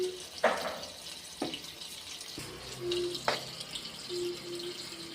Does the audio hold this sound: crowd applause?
no